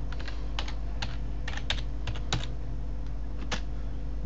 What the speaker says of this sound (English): First, type in a word that you know is correctly spelled.